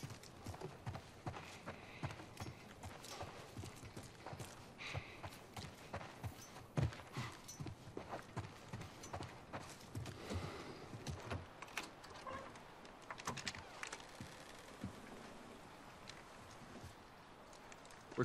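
Horse hooves clip-clop steadily in The Last of Us Part I, a repeated rhythmic clatter of moderate loudness continuing for the whole stretch alongside faint ambient game sounds and no talking.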